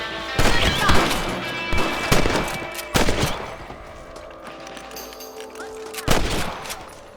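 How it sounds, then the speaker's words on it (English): Rifle shots ring out at rabbits on a ranch in the Red Dead Redemption video game, several loud sharp cracks spaced irregularly, each with a ringing tail over game ambience and music. "Get your rifle out."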